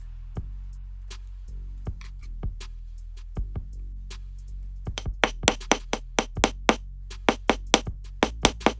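Sharp metallic hammer strikes on a wire frame for a labradorite pendant, sparse and spaced at first, then quickening into a steady run of loud, ringing taps with no talk.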